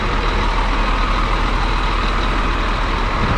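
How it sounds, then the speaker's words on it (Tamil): Steady, loud engine drone from a Scania semi-sleeper bus, a continuous low rumble heard from close by with no pauses or voices. "ஸ்கேனியாவோட ஐடியல் சவுண்டு. ஸோ இந்த சவுண்டு இப்படி தான் இருக்கும்."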